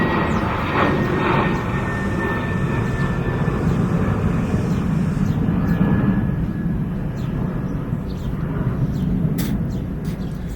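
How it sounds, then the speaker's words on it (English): An airplane flies overhead outdoors, its broad, steady engine roar filling the whole stretch at an even, moderately loud level with no talking. "Hold on, airplane."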